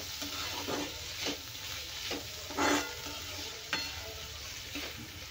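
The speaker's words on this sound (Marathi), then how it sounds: "आता मग दाणे पण छान परतून घेतले आहेत व्यवस्थित" Peanuts toast in a pan over a soft, steady sizzle, with a few rhythmic scraping stirs and occasional louder rattles as the spatula turns them.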